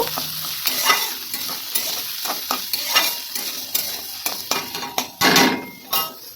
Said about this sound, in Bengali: সবজিগুলো কেটে রেখেছিলাম গাজর ক্যাপসিকাম বিনস সেগুলোকে হালকা করে ভেজে নেব